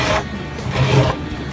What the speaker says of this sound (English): I'll just go ahead and scrape that off a little bit.